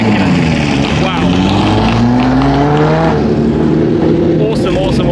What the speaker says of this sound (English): Listen to the sound of that thing. Ferrari F40.